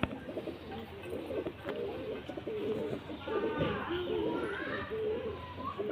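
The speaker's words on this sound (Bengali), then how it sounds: "আর এটা মাদা পায়রা" A female pigeon kept as a pet coos in low, bubbling phrases that overlap other pigeon calls, with people and children talking nearby.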